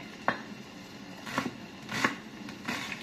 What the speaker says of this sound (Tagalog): hiwain po natin yung sibuyas ng medyo manipis ng konti para po matunaw